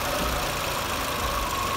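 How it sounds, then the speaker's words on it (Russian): Renault Clio II 1.4-litre K4J712 petrol engine idling, a steady, even low rumble held at constant speed with no talk over it. "Работа двигателя на холостом ходу."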